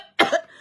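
A single sharp cough from a woman with a bad cough, close and loud, followed by a brief fading tail of breath and faint room noise.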